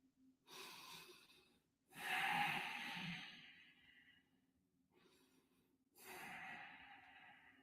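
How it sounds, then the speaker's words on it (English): A person breathing in a quiet room, with slow, fairly close inhales and exhales that come in three or four long breaths, separated by near silence. "You see how I can hear my own breathing?"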